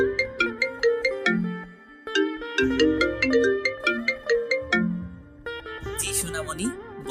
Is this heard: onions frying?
no